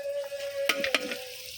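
Spice paste with chili frying in a pan with a little water, a steady sizzle with a few sharp scraping stirs near the middle.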